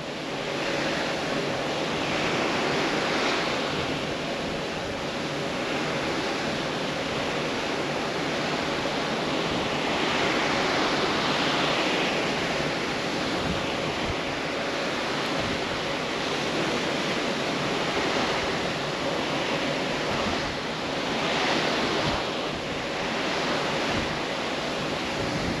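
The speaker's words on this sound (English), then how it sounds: "The only noise you have is the water." Water and waves churning below a Carnival Glory cruise ship on a sea day, a steady, broad rushing wash with gentle surges, constant and unbroken with no voices.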